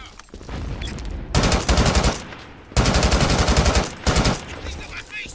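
A machine gun nest fires in the shooter game BRINK, with loud rapid bursts of automatic fire separated by short pauses and faint combat noise between them.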